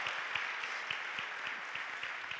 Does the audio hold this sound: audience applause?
yes